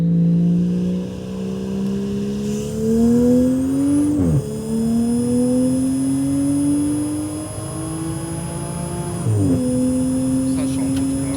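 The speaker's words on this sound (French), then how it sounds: "quand t'es en pleine charge, tu vois, le son du turbo, c'est vraiment pas le même." A Toyota Chaser fitted with a J-pipe accelerates hard under full boost, its engine note climbing through the gears with a loud, whistling turbo rising over the exhaust and sharp dips at each shift.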